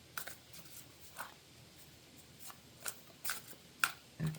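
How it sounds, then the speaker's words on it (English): Tarot cards are shuffled by hand indoors, giving soft, faint riffling and sliding bursts spaced irregularly, with no talking. "Okay, I'm going to shuffle this up"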